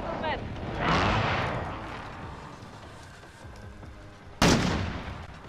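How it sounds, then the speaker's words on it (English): Precision airstrike explosions in Call of Duty: a heavy rumbling blast swells and fades, then a second sharp, loud explosive burst hits near the end, with gunfire and voices mixed in. "Friendly precision airstrike inbound!"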